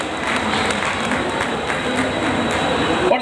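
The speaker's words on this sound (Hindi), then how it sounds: "पत्रकारिता के लिए भी एक जोरदार तालियां साथियों" A crowd of railway workers at a Baba Saheb birth anniversary gathering claps vigorously, a dense patter of many hands continuing steadily at close range.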